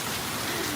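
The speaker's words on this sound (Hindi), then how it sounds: "भाई बहुत तेज बारिश हो रही है" Heavy rain pours down in a steady, dense hiss that fills the whole moment, loud and close with no breaks.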